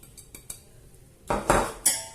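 A utensil mixes brownie batter in a bowl with sugar, giving a few light taps followed by louder scraping, clinking strokes against the bowl, close and without talk.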